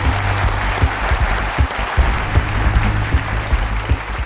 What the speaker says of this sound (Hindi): तालियों के साथ उनका स्वागत किया जाए